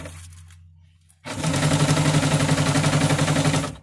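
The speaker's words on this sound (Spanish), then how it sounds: "Entonces, paso la costura" A sewing machine stitches a seam beneath bias tape on a prefabricated hot pad for an oven door, starting after a quiet second and then running loud and steady with a fast, even mechanical rhythm to the end.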